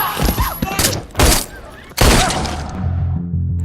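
Rapid bursts of gunfire crack out in a Mirzapur crime-drama trailer, two or three loud volleys with sharp impacts and echoing tails over a tense score.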